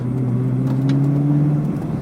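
A salvage Ferrari's engine running as the car is driven, a close, steady droning hum with a clear tonal whine holding level and slightly rising, no voices over it.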